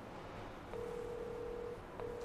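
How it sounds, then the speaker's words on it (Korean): A video phone call rings out with a steady electronic ringback tone, one long burst followed by a short pause and the start of another, fairly quiet over a faint room hush. "저기 수연이한테 전화 한번 해"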